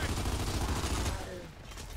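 Boomshot explosive launcher fire in an online match of Gears of War 2, a dense burst of loud booming gunfire and blasts over a voice shouting.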